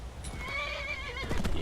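A horse in the video game Skyrim gives a clear, wavering whinny up close, followed by a few hoof clops at the end, with no talking.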